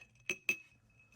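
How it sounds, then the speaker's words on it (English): A Manhattan cocktail being stirred with ice in a mixing glass, giving two bright, close glassy clinks about a fifth of a second apart, each ringing briefly, then faint quiet. "Mix this all together in this mixing glass with ice."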